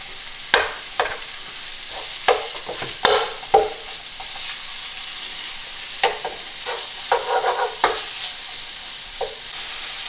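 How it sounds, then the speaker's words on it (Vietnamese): Meat stir-frying in a pan with golden fried garlic for a giant seafood jjamppong, with repeated sharp scraping and tossing strokes over a steady sizzle, close and fairly loud, no voices. "Xào thịt cùng."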